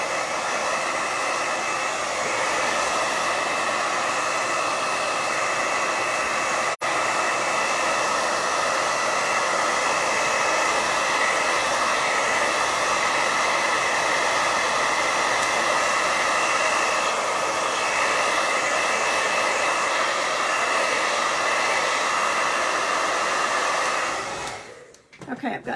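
Hair dryer blowing on paint on a rustic sled, a loud, steady close whir with a constant airy hiss that runs unbroken before switching off at the end.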